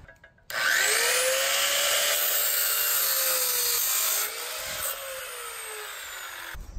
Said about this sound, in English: So I'm just gonna bring back the chop saw.